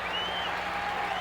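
Baseball stadium crowd during the 1980 American League Championship Series, Game 2, keeping up a steady, distant wash of cheering and applause.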